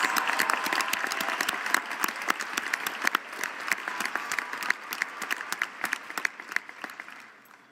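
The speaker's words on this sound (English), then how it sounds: "Please give a round of applause for all of our 2026 Graduates of Excellence Award recipients" A commencement audience at the GRCC 2026 ceremony applauds graduate award recipients: steady, dense crowd clapping with sharp individual claps throughout, fairly distant and fading slightly at the end.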